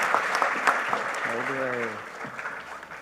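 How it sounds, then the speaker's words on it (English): An audience applauds as an oration speaker is invited to the podium, a steady wash of clapping with voices talking over it. "Please give a huge round of applause as we look forward to this oration"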